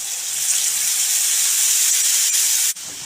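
Washed, unsoaked basmati rice tipped into hot ghee with cumin gives a loud, steady sizzling hiss that holds evenly for a few seconds, then dips sharply near the end before settling back.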